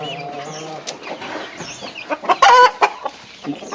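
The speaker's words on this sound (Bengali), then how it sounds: "এখানে ডিমওয়ালা মুরগিও আছে। এখানে বড় একটা মুরগি দেখা যাইতেছে।" Hens clucking close by in a busy flock on a poultry farm, including laying hens, with a burst of louder, agitated cackling midway before the clucks settle again.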